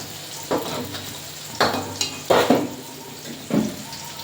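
Ginger paste frying in hot spiced oil in a village kitchen: a soft sizzle broken by several sharp stirring and scraping bursts from the pan, with no one talking.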